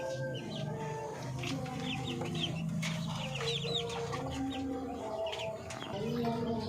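Darag native chickens cluck and call repeatedly at moderate distance, with overlapping clucks and occasional chirps forming a busy farmyard chorus against low background noise.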